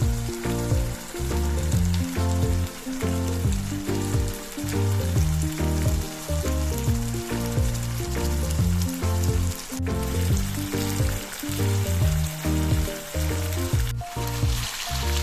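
Chicken curry frying in oil in a pan as its water cooks off, a loud, continuous sizzle and crackle with stirring scrapes, close up and without talk.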